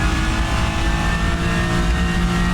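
Race car engine in rFactor 2 at Sebring, a steady loud drone holding throughout as the car brakes hard into a right-hand turn, with no voices over it.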